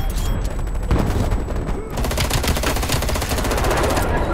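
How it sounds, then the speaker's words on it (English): Rapid, dense gunfire from a battle royale shooter game, a loud continuous automatic burst that rattles on for several seconds with almost no pause. "Jose, stop shooting at me!"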